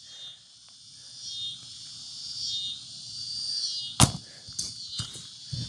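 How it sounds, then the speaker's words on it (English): Cicadas drone loudly and steadily in a high, shimmering chorus, broken near the end by a few sharp knocks or clicks. "Cicadas are some loud things."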